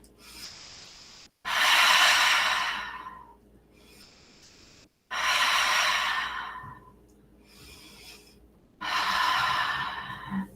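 Slow, deep breaths during a yoga side stretch in a studio: three long airy exhales, close and loud, separated by quieter pauses.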